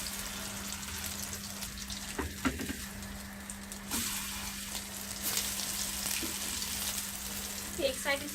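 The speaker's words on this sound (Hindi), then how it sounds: "मैं इसी तरह से इसको फ्राई करूँगी, करके आपको दिखा देती हूँ।" Beef shami kababs fry in oil in a pan, giving a steady, crackling sizzle that runs the whole time, with a low hum beneath and a few louder spits and pops.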